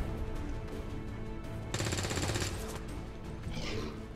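Enemies return fire in XCOM 2, a short rattling burst of automatic gunfire in the middle of the clip over a low, steady game background.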